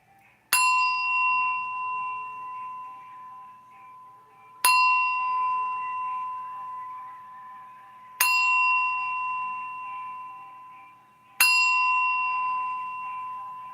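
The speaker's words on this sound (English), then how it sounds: "going to ring the bell and hit the singing bowl a few times." A bell or singing bowl is struck four times at even intervals, each strike a clear bright ring that hangs and slowly fades before the next, heard alone in a quiet room.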